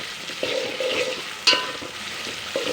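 Carrot, onion and chopped vegetables for oats upma fry in hot oil with a continuous close sizzle, punctuated by several spoon scrapes and stirring knocks against the pan, with no talking.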